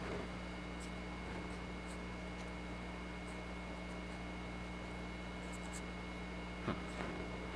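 A marker or chalk scratches across a board while a swine is drawn, giving faint intermittent strokes over a steady room hum.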